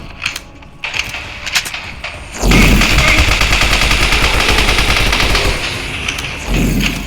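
Gunfire in the Android game Same Room Same Day, a few scattered shots and clicks first, then a dense, loud, sustained automatic burst lasting several seconds before it briefly eases and resumes.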